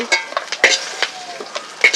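Crab with roe frying in oil for Sundarbans-style crab jhal, sharp scraping stirs and metallic clinks of a utensil against the pan over a light sizzle, close and irregular.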